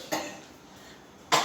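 Two short coughs from someone in a church congregation, each a brief isolated burst separated by about a second of quiet room tone.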